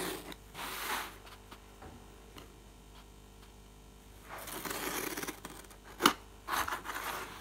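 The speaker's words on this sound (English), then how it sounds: "To score the cardboard, I'm just using the back of a pair of scissors to do that." The back of a pair of scissors is dragged along cardboard to score it, making a series of close, dry scraping strokes with brief pauses and a few sharper clicks near the end.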